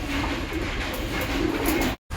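Pet pigeons coo during hot weather, a continuous run of soft, low, rolling calls close by that cuts off abruptly near the end.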